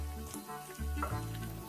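Garlic sautéing in a pan, sizzling steadily up close with soft stirring scrapes and no voices.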